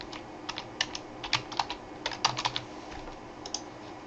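Someone types a captcha on a computer keyboard in a quiet room, about a dozen soft, irregular key clicks in short bursts with small gaps between.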